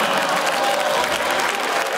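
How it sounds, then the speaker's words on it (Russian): A studio audience at a comedy roast claps in a loud, dense, continuous burst of applause, steady throughout the short stretch with no distinct voices. "Ребят, можете ему не хлопать, он пугается аплодисментов."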